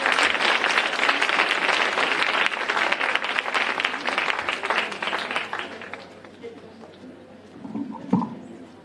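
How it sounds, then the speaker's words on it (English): An audience at a high school freshman open house assembly claps loudly and steadily for several seconds, then the applause fades out as a voice begins speaking. "Let's give a round of applause."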